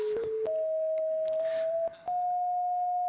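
A steady electronic tone representing the color of grass holds one pitch, then steps up slightly and continues, with a few faint clicks scattered over it.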